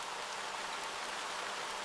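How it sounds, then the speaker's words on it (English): Heavy tropical-style downpour striking dry earth in the wild, a dense, even roar of rain that stays steady and fairly soft throughout. "The heavy raindrops strike the earth, creating a frantic,"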